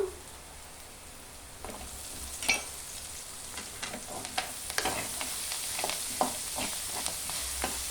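Curry leaves crackle and sizzle in hot oil in a pan along with onions and drumstick leaves, sharp pops scattered over a steady fry, close up and without speech.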